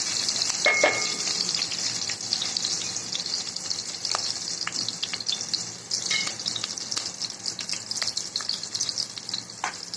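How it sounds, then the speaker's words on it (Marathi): Green chilies and cumin seeds fry in hot oil in a home kitchen, a continuous close sizzle with sharp crackles and pops scattered throughout and occasional stirring scrapes. "पहिलं तेल टाकलं मग जिरं टाकायचं आणि मग मिरची टाकायची चांगल्याची सरपूस भाजून घ्यायची"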